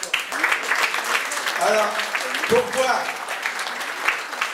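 Audience in the Neptune hall on the port at Saint-Cap-Ferrat applauding Fred Mazuir, honoured for services to culture; steady crowd clapping runs throughout, with a voice speaking over it.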